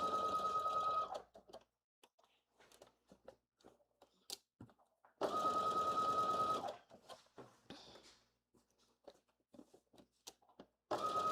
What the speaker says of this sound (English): I'm going to start at that dot. And sew all the way up.